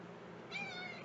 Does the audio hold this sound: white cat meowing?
yes